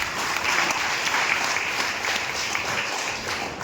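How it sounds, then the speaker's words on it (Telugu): A church congregation claps loudly in response to the priest's call, a dense, steady wash of applause filling the room throughout with no talking. "బాగున్న వాళ్ళందరూ కూడా గట్టిగా చప్పట్లు కొట్టండి"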